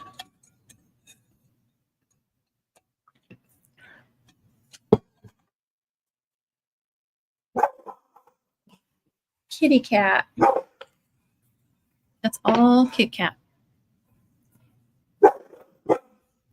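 Short bursts of dog barking, a couple of clustered yelps, separated by quiet gaps, with brief talk in between, and a weed eater running outside.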